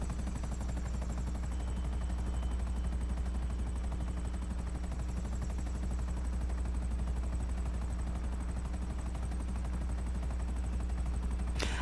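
Steady rapid chopping of a helicopter rotor with a constant engine drone in the video game GTA V Online, loud and continuous throughout.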